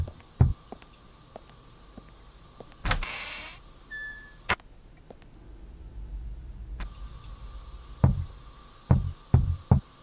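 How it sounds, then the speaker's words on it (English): Sharp knocks on a door from next door in the video game Unheard: Mental Hospital, a few scattered raps in clusters with quiet gaps, fairly close and crisp, mixed with other faint thuds and no talk. "Who's that knocking?"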